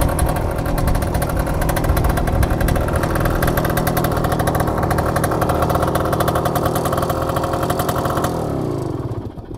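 A 1966 Suzuki K15 motorcycle engine idles loud and close with a fast, even, rattling beat, running steadily before cutting off near the end.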